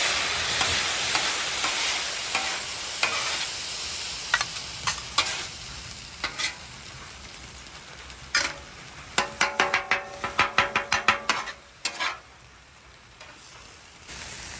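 Chicken and sauce sizzle on a hot flat top grill. The frying is loud and continuous, with a rapid run of scraping, clacking spatula strokes toward the end.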